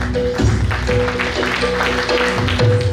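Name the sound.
audience applause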